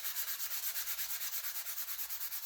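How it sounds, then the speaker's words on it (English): A fine sanding block lightly rubs over a painted surface with a soft, rhythmic back-and-forth scratching, about ten even strokes, close and quiet with no voices. "I'm just going to take a very fine sanding block and just lightly go over it"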